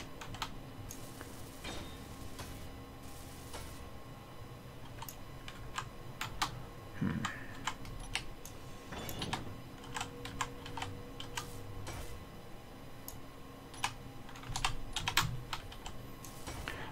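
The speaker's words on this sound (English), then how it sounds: "A lot of excessive clicking on my keyboard this evening." Sparse clicks and bursts of keystrokes on a mechanical-switch computer keyboard go on throughout, close but fairly quiet, over a low steady background hum and faint game sounds.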